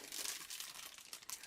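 A sealed plastic bag of glazing parts from a ZIS-151 model kit crinkles in short, close, irregular rustles, quiet and alone.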